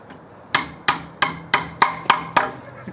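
A hammer strikes concrete formwork with eight sharp, evenly spaced blows over a few seconds, loud and close with no talk.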